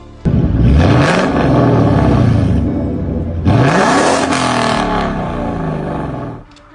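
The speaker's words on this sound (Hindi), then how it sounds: "देखो गाइस, हमारी गाड़ी आ चुकी है। ये तो जीटी मस्टैंग है।" A Ford Mustang GT arrives with a loud, close engine roar, revving up twice in strong surges of acceleration with rising pitch before cutting off near the end.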